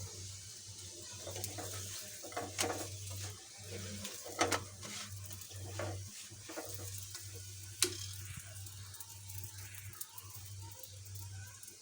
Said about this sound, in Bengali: পরোটাগুলো ভেজে নেই দেখতে থাকে যে আমি পরোটাগুলো ভেজে নিচ্ছি